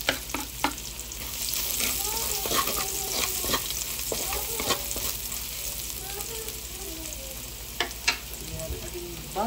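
Garlic frying in a pan for pork menudo, a continuous close sizzle broken by sharp clicks and scrapes of a utensil stirring, with a steady hiss underneath.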